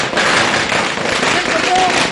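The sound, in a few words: firecrackers bursting at victory celebration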